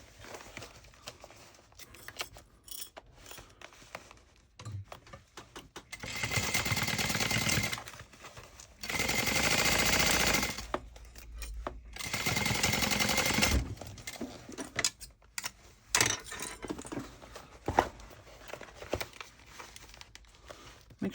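A sewing machine tacks webbing straps onto a tote bag in three bursts of rapid stitching, each a few seconds long, separated by quieter handling and fabric rustling.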